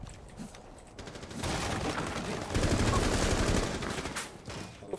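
Gunfire in the video game Rainbow Six Siege, with dense rapid shots rattling in a sustained burst over about three seconds amid muffled game noise, moderately close.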